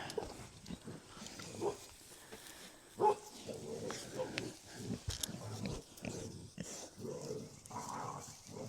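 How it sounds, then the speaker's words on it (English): Low rumbling growls and snarls from dogs playing come in bursts, somewhat distant and mixed with scuffling noises throughout. "Don't mind the sounds like dogs murdering each other in the background."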